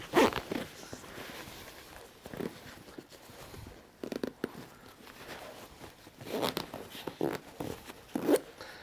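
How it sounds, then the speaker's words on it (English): Zipper on the top compartment of a hunting backpack being pulled closed in several forceful bursts, close and crisp, with rustling fabric and handling noises between the pulls. "then I'm gonna obviously zip up this top compartment"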